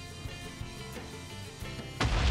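A wool bomb goes off in a blocky pixel sandbox game, a sudden loud explosive burst at the end following a few fainter scattered thumps and pops.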